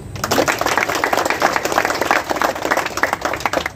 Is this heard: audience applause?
yes